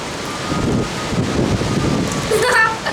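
Gusty wind roars steadily against the microphone, close and loud, with a brief voice near the end.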